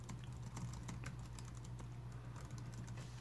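Quiet, rapid tapping of a computer keyboard as someone types, with a low steady electrical hum beneath the clicks.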